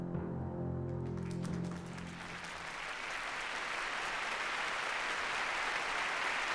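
Thunderous, sustained applause fills a large Soviet assembly hall in 1937. A brief tonal sound fades out, and the dense clapping then carries on unbroken and evenly loud to the end.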